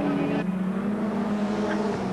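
Racing cars circuit at Lakeside Raceway during a 1991 Australian Touring Car Championship round, one being a small BMW; a steady engine drone holds throughout at moderate, continuous loudness, with a commentator talking over it.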